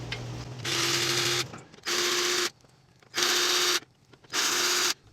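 A Hercules power tool removes radiator bolts on a 1998-2002 Honda Accord in four loud, close bursts, each about a second long, with a steady whining buzz and short pauses between them, and no voices.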